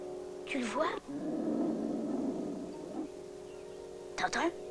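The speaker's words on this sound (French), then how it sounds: "Il gronde comme un chien." A low, rumbling growl from a dog runs steadily through the middle, with brief voices speaking before and after it.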